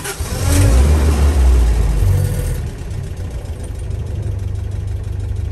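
A 1960 Land Rover Series 2 88-inch petrol engine turns over and revs briefly, then drops into a steady, even idle rumble close by.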